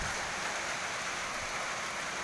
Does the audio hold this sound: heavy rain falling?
yes